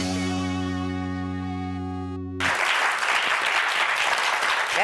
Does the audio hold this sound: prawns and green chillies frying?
no